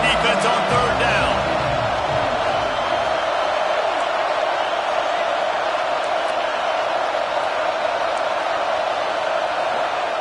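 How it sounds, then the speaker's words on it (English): A college football stadium crowd roars steadily and loudly on a third down in a Clemson game, a dense continuous wall of cheering with some speech mixed in. "Decibels rising as the crowd gets behind this defense on third down."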